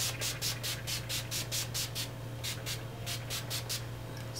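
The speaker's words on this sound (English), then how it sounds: "We're going to use our Urban Decay Chill setting spray." Urban Decay Chill setting spray mists out in a quick series of short hissing bursts, about a dozen pumps in two runs, close and fairly faint over a low steady hum.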